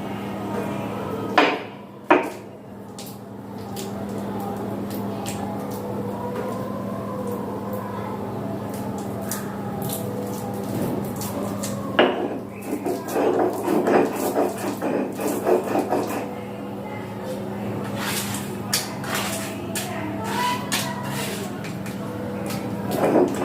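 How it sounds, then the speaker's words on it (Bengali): Boiled gati kochu taro ground into paste on a stone: repeated rubbing and scraping strokes with occasional hard knocks, close and moderately loud over a steady background hum. "গাঁটি কচু দিয়ে ভালো করে বেটে নেব।"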